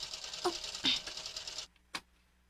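A vacuum cleaner runs indoors as a loud, rough hiss with a few surging bursts, then cuts off; a single sharp sound follows in the quiet afterwards.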